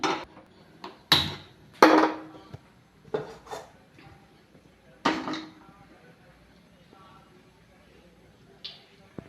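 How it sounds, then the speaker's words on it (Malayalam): A clay pan is set down on a stove before making Kerala-style bilimbi pickle, giving a few sharp knocks and scrapes of pottery against metal, with quieter clinks scattered between and a faint knock near the end. "ഞാനിപ്പോൾ ആദ്യമായിട്ടൊരു ചട്ടി ചൂടാക്കാൻ വെക്കുകയാണ്"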